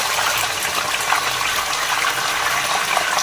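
A whole mutton leg (raan) frying in hot oil in a home kitchen, giving a steady, loud, continuous sizzling hiss that stays even throughout with no talk.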